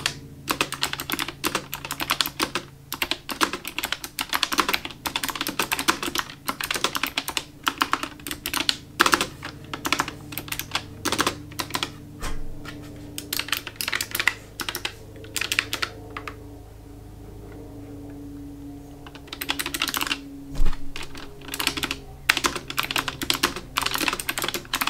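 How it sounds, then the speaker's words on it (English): Rapid, clicky keystrokes from an ASUS ROG Claymore II mechanical keyboard with blue switches rattle on steadily, with a brief pause midway before the fast typing resumes. "here's a typing test to give you an idea of what you can expect to hear"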